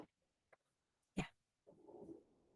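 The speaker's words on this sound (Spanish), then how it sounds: "¿Se escuchaban los ladridos?" Small Shih Tzu Toy dog giving a few short, sharp barks, one loud yelp standing out among faint ones, followed by a longer muffled rumble of noise nearby.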